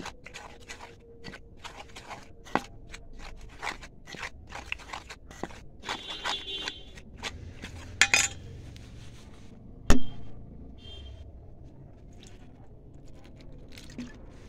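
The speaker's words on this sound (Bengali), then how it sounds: "আগে মশলাগুলো ভালো করে মিশিয়ে নিই" Spices stirred into a thick batter in a bowl for potato and spinach fritters: wet squishing and scraping with scattered clinks of a spoon against the bowl, close and fairly quiet, with a couple of louder knocks.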